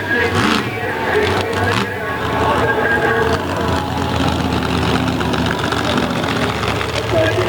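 A mega truck's engine runs hard in the mud during an encore freestyle run at a Monsters 'N' Megas show, a loud, steady low rumble and roar with crowd noise and a commentator talking over it throughout.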